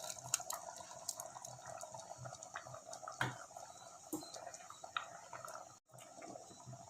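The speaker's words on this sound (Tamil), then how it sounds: "இப்போ நம்ம அரைச்சி வச்சுருக்க தேங்காயை இதில் ஆட் பண்ணிக்கலாம்." Ground coconut paste goes into a simmering Chettinad mutton curry. Close, quiet wet plops, drips and soft bubbling clicks come at irregular intervals, with no voices.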